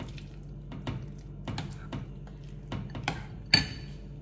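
A spoon stirs soaked oats and rava batter in a bowl, giving soft irregular clinks and taps against the rim, with one sharper knock near the end in an otherwise quiet kitchen.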